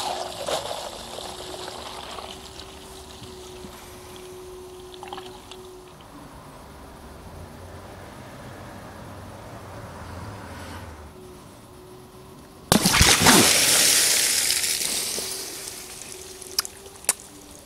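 Quiet steady trickle of water onto latex for a long stretch, then a sudden louder splashing pour near the end, close and sustained.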